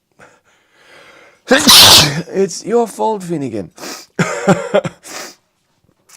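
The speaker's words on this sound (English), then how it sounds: "oh, I have to sneeze." An adult stifles a sneeze, a sharp burst of breath followed by coughing and throat clearing, with a person speaking briefly around it.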